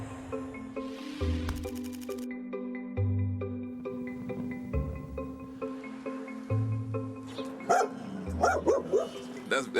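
A dog barks in several short bursts, moderately close, over background music with sparse talk.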